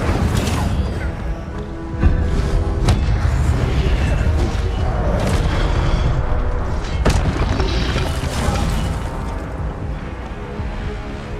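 Booming magical blasts and crackling bursts from a Hogwarts Legacy spell fight, including an Incendio fire spell, land in several loud hits over rumbling game ambience.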